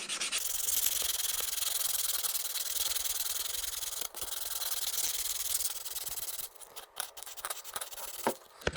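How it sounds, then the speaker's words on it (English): Fishing lures have their seams sanded down, giving a close, steady rasping scrub that runs continuously for several seconds before breaking into shorter scratchy strokes and handling noises. "I think it's going to look better with those seams just sanded down a bit"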